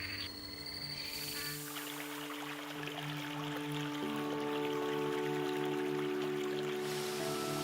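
A stream trickles steadily through the Paraná rainforest, a soft continuous flow of water beneath faint tonal calls of frogs and insects.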